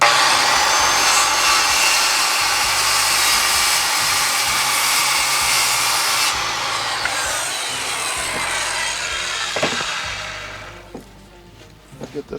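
Power tool trimming a wooden bench frame, a loud continuous whine and rasp of cutting that holds steady for about six seconds, then drops to a rougher, fading grind with a few knocks before stopping.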